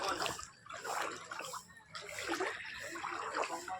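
Floodwater stands inside a house in Khanakul, Hooghly, West Bengal, sloshing and splashing in uneven waves that swell and fade, close by and moderately loud, with faint voices underneath.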